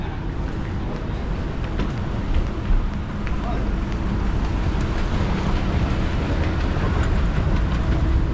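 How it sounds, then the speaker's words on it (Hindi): Busy train station with a train passing, a steady broad rumble of rail noise and wheel clatter running throughout, fairly loud and close, with faint voices in the background. "तो भाई ये है ट्रेन स्टेशन."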